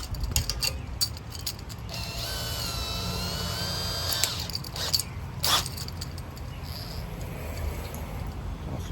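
Cordless drill spinning a stone cylinder hone inside a Ford 302 small-block engine bore, a loud steady whine for about two seconds that gives way to continuous gritty grinding and scraping.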